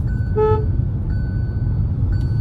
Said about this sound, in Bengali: সোজা হালকা ডান দিক থেকে হর্ন মারো